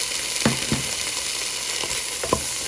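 Capsicum, onion and green chillies with mixed vegetables sizzle in a pan for veg rice, a steady fry punctuated by several sharp scraping stirs close by.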